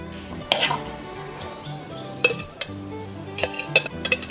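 Metal spoon clinks and scrapes against a steel puttu steamer as spiced beef mixture is added, a few sharp taps among softer kitchen clatter, close and fairly quiet.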